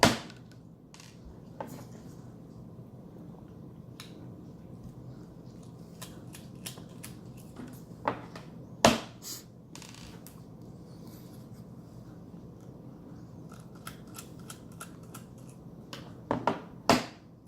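Small screws come out of a drive bracket inside a 2012 MacBook Pro, heard as faint scattered clicks and sharp little ticks with quiet gaps between them and no talking.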